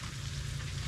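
Chunks of banana tree trunk deep-fry in hot oil until crispy, a dense, steady sizzle and crackle filling the whole moment with no voices.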